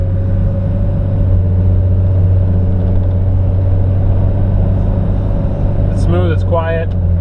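Steady, loud low rumble of a 1997 Nissan Safari's engine while driving, a constant drone that holds throughout with a brief squeaky, chirping noise near the end.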